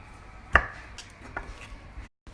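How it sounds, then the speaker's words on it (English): A knife slices through an onion on a cutting board with one sharp, loud chop followed by a couple of lighter cuts. The sound stops abruptly near the end. "Slice your onion."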